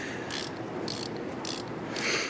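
A ratchet wrench with an extension loosening spark plugs on a Ford F-150 3.5L EcoBoost V6, giving four short bursts of rapid clicking close up, each separated by brief pauses.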